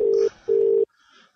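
A telephone rings on a talk-radio phone line: two short electronic ring bursts separated by a brief gap, then quiet.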